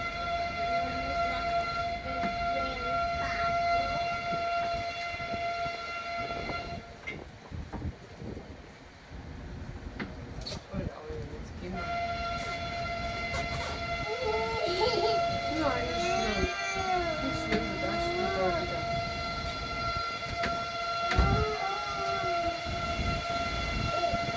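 A tourist train rolls through Mdina, Malta, with a steady rumbling drone and sustained tonal horn or whine sounds nearby, while adults and children chatter over it.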